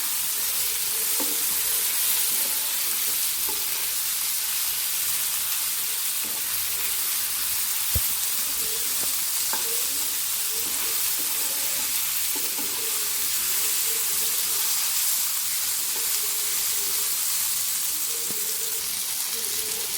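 Chopped ripe jackfruit being stirred in a hot pan, a constant loud sizzling hiss throughout with soft scraping of the spoon against the pan.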